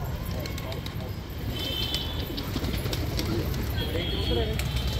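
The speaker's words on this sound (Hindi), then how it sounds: "ये दोस्तों सब कबूतर बाहर आ चुके हैं" Pigeons, including a breeding pair of fancy pied and red jogiya birds, give soft low coos close by amid a constant hum and busy background noise, with someone talking over them.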